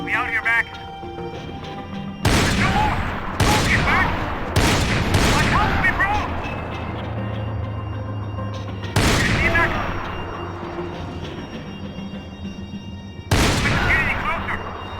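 Video game gunfire as loud, sharp bursts of shots with short gaps between them, under steady talk.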